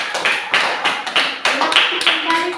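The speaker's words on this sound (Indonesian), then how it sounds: "Berikan tepuk tangan kepada kelompok 3." Classroom applause for a student group, a sparse round of separate hand claps at moderate distance, a few people clapping unevenly for under three seconds.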